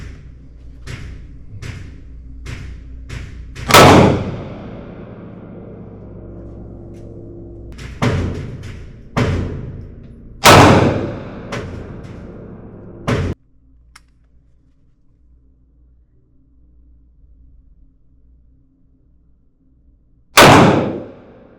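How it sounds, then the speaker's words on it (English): A Rossi Brawler .45 Long Colt/.410 hand cannon firing 255-grain Range Dynamics .45 Long Colt rounds outdoors: several loud, sharp reports spaced seconds apart, with fainter distant shots and clanks between them and a quiet stretch near the end. "as I take my first shots with the Rossi Brawler"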